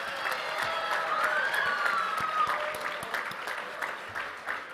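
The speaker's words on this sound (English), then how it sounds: "A round of applause, please, for our Master of Science in Medical Device Engineering graduates." Crowd at a college commencement ceremony applauds graduates of a medical device engineering master's program, a steady wash of clapping with a few faint cheers, moderately distant and continuous throughout.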